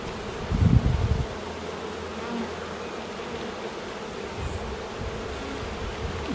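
A dense, steady buzz of many honeybees at an open hive fills the air up close, with a louder thump of handling near the start.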